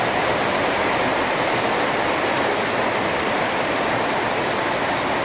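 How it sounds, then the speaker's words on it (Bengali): Heavy rain falls in a dense, unbroken roar of drops that stays steady and loud throughout, with no voices. "তো বৃষ্টি, এমন বৃষ্টি নামছে"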